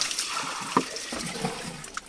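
Water trickles and splashes out through a simple homemade fishing trap set in a stream, a soft continuous watery flow with a few small splashes, faint and close.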